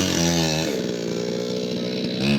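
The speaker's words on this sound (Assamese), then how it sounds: "কাটি আছে গছ" A chainsaw cuts down a tree in Nagaland, its engine whining loud and close in a steady high buzz, dipping briefly as the blade bites, then revving up again at the end.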